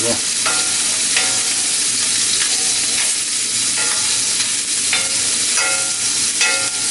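Slices of kielbasa sausage browning in a frying pan give a loud, steady sizzle throughout, with occasional scrapes and stirring clicks from turning the pieces.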